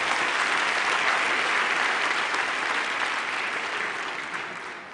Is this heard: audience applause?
yes